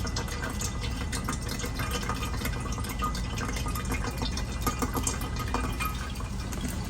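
Used cooking grease straining through a filter, a steady close trickling and dripping of liquid that runs unbroken throughout at an even level.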